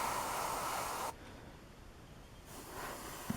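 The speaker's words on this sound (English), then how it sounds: "with a really light spray like that" An airbrush gives a light spray of paint onto an R2-D2 model, a soft steady hiss that runs about a second, stops, then returns faintly near the end, close and without talking.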